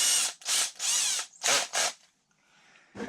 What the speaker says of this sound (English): And I will drill down through the center.